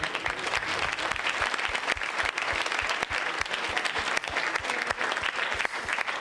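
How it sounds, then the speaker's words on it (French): Steady, dense audience applause at a science-fiction screening and talk session, continuous clapping close by with no voices, holding level throughout. "on peut vous applaudir"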